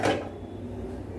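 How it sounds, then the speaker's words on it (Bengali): A lid is set onto a cooking pot of fish curry simmering in water, giving one short clunk at the start followed by a low, steady background hum. "এবার ঢেকে দিচ্ছি"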